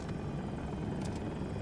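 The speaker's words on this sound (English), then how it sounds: "enemy helicopter. I'll go after him first" Helicopter rotor and engine noise in the video game Battlefield 2042, a steady dense chopping roar that stays loud and continuous throughout, with no talk over it.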